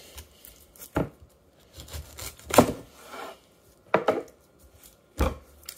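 A knife chopping through pineapple on a cutting board, several separate sharp thuddy cuts spaced a second or so apart, close and fairly loud in a quiet kitchen.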